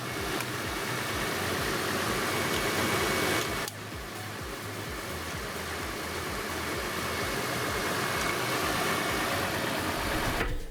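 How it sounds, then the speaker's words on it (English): A Toyota 4Runner engine idles steadily after a jump start from a power bank, a close, continuous mid-pitched rumble with a regular low pulse that dips briefly partway through, with no talking. "so now we have jump started the 4Runner"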